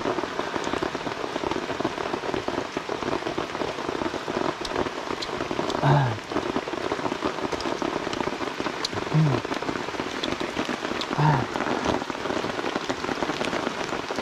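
Heavy rain pours onto a camp shelter during a fishing trip, a dense, steady hiss of drops drumming close on the roof, with a few louder thumps and brief murmurs of voices underneath.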